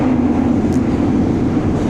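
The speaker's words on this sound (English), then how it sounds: "This is a smoother train as well than the others, much smoother" A Kobe subway train runs smoothly, its steady loud rumble and low hum continuous throughout with no voices.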